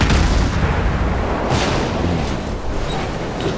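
Heavy naval gunfire from the cruiser Cleveland in the game World of Warships, one loud booming roar that rolls on and fades slowly, with no voices.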